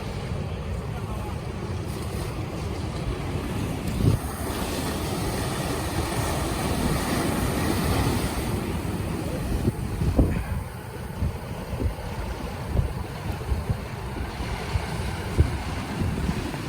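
Boat out at sea near a river mouth at low tide, with wind buffeting the microphone, washing waves and a distant engine drone, scattered knocks, and a voice talking faintly at points.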